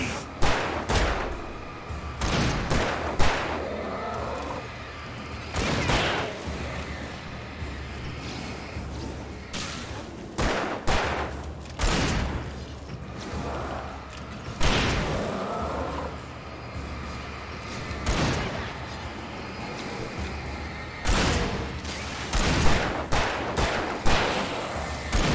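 Gunfire in the video game Alan Wake, during a rock show stage: repeated loud sharp shots and bursts spaced irregularly across the stretch, close and punchy, with little talk.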